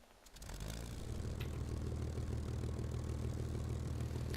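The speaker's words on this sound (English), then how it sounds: "I'm going to start up my engine." An aircraft propeller engine in War Thunder starts up after a brief quiet moment, then settles into a loud, steady, throbbing drone with no talking over it.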